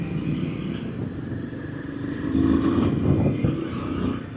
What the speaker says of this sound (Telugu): ఇది ఎప్పటిదో ముందర ఒకటి వింటేజ్ బైక్ పోతుంది